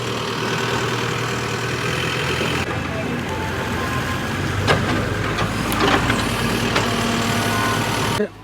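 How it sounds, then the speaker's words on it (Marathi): A large tractor engine rumbles and idles steadily throughout, loud and close, with occasional rattles and clanks over the droning. "आपला ट्रॅक्टर आलेला आहे"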